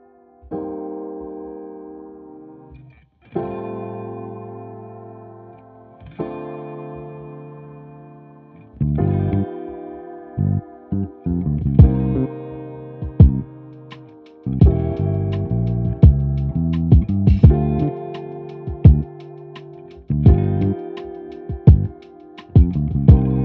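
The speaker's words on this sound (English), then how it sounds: "I'm actually gonna solo the cab so you can hear what it sounds like when each instrument comes in" A music mix plays through a soloed guitar cabinet, each instrument entering one after another until a dense, gritty, distorted blend of chords and punchy drum hits builds up.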